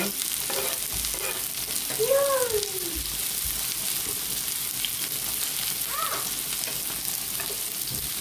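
Oil sizzling in a pan as food fries, a steady close crackle and hiss throughout with a few brief clinks of a utensil and a voice speaking briefly.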